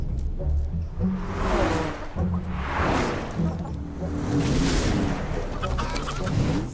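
A chicken clucks repeatedly in the racing game Forza Horizon 4, mixed with rushing car whooshes and engine noise, with a faint voice in the background.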